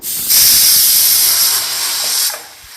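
A loud, continuous hiss of steam bursting from a pressure cooker whistle while cooking sambar holds for about two seconds, then drops off abruptly.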